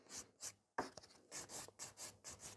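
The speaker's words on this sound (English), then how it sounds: "using 180 grit we are going to scratch the surface of the natural nail plate so there is no shine" A 180 grit file scratches across a natural nail surface in quick, soft rasping strokes, close and rhythmic, with a brief tap partway through.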